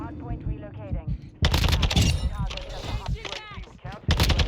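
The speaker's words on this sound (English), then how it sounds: "That's a teammate just completely brain dead shooting at me." Rapid gunfire bursts in the Modern Warfare 2 shooter game, loud and close, mixed with someone talking over the shots.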